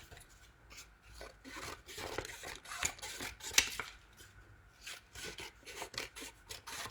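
Quiet, close scissor snips and watercolor paper rustling repeat in uneven bursts, with soft rubbing and scraping between cuts.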